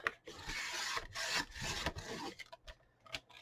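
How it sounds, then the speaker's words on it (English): Cereal box paper pages being trimmed, close, quiet rasping cuts in several uneven strokes, ending in a few short snips. "So I'm going to trim some off of each side."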